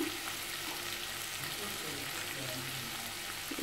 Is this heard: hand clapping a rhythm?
no